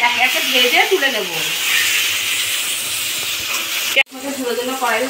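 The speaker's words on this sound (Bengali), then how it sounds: "তেল দিয়ে ইলিশ মাছগুলোকে এক একে ভেজে তুলে নেব।" Hilsa fish fry in hot oil in a pan, giving a loud, continuous sizzle and hiss that cuts out briefly before resuming, with a voice talking over the start and end.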